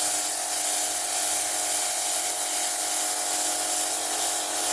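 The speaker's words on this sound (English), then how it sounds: "I like to take some coarse sandpaper at this point and smooth it out" Spinning wooden tippy top on a lathe being sanded with coarse 80-grit sandpaper, a loud steady hissing whir with no breaks throughout.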